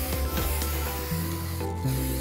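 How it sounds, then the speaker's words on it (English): A vanity tray being spray painted on all sides, with a steady close hiss of spray running through the short stretch over a background of low humming tones. "So see, you just spray paint it."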